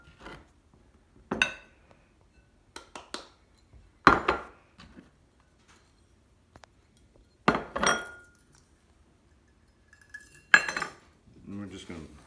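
Flour, sugar, salt and baking powder for sweet Southern cornbread being mixed in a bowl, heard as scattered, close clinks and scrapes of a utensil against the bowl, separated by quiet pauses.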